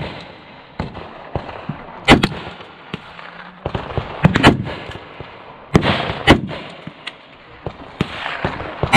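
Sharp, loud gunshots crack at irregular intervals at an outdoor shooting range where .308, .22LR, 9mm and .223 rifles and pistols are fired. Several reports sound near and others farther off, with quieter pops between them.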